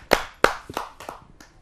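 Audience applause at a Hindi kavi sammelan poetry gathering for a poet, heard as a few sharp, loud claps that thin into scattered fading ones.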